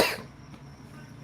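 One sharp, loud cough bursts at the start, then fades into quiet room sound.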